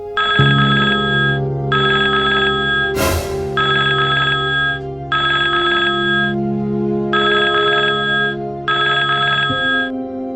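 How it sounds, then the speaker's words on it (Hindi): An old-style telephone bell rings in repeated bursts with short gaps, loud and close over a low sustained tone, with a brief noisy burst early on. "नागपुर में चारों ओर फोन की घंटियां बज उठी।"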